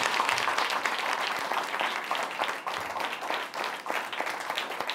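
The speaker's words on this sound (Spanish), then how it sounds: "darle un aplauso a la baraja" An audience applauds a card trick at a magic performance, with dense, steady clapping that fills the whole stretch and keeps an even level without letting up.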